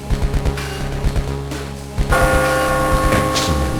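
A deep, clanging bell-like gong from the Game Boy Advance fighting game Mortal Kombat Advance, struck repeatedly in a fast rhythm and then ringing on loudly with long sustained tones.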